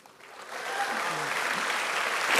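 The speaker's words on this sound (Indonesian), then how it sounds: "tepuk tangan dulu" Applause from an audience at a green festival event in Jakarta Theater, a broad wash of clapping that swells and grows louder over a couple of seconds, with a faint voice briefly under it.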